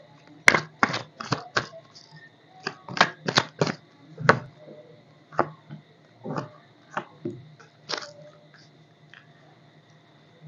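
Tarot cards shuffled by hand in a run of crisp, riffling bursts, loud and close, followed by a few scattered single card slaps and flips.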